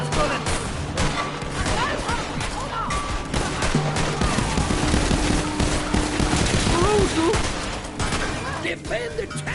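Heavy Borderlands 3 gunfire roars almost without pause, dense overlapping bursts and explosions forming a loud battle din, with voices shouting underneath.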